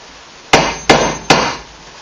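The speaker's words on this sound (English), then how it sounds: "pound the screw pin into my stud so I could get this lined up" Three sharp, evenly spaced hammer blows drive a screw pin into a wall stud during a bathroom remodel, each loud close strike ringing out briefly before the next.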